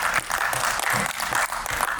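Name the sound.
audience applause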